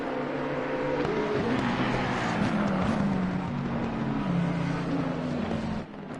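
A GT3 race car engine in a PS4 racing game drones steadily, its pitch sliding gradually up and down as it runs continuously, loud and alone, dropping off briefly near the end.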